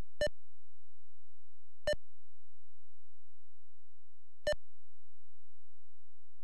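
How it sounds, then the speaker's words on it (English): Three sharp electronic beeps from a DOS video game, evenly spaced apart and separated by near silence over a faint low hum. "just so we're not getting over inundated with the beeps"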